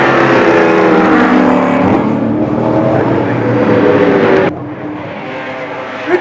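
Touring cars from the 1968 Australian Touring Car Championship roar loudly and continuously, their engine note dropping abruptly near the end, with a commentator's voice running over the racing noise.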